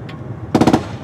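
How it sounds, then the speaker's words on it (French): A burst of four or five rapid gunshots fired at a convoy in Cameroon rings out loud and close after a faint earlier crack, then fades into quiet background. "Nouvelle salve de tir sur le convoi."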